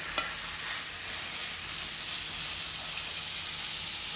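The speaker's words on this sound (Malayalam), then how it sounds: "ചൂടായതിനു ശേഷം നമുക്ക് നമ്മുടെ മീൻ ഇതിലിട്ട് കൊടുത്തിട്ട് ഒന്ന് ഫ്രൈ ചെയ്തെടുക്കാം" Anchovies fry in hot coconut oil in a pan, a steady close hiss and crackle of sizzling that runs unbroken throughout, with one faint tap near the start.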